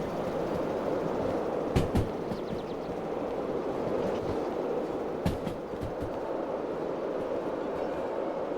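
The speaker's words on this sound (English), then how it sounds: "little train puffing along" A train rolls along steadily in the video game Derail Valley, with a constant low rumble and occasional metallic clicks, no voices.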